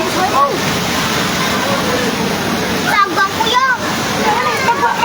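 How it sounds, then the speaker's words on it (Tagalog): Heavy roaring floodwater from a super typhoon storm surge in Catanduanes churns steadily and loudly, with people shouting over the rush. "Yan na yung tubig."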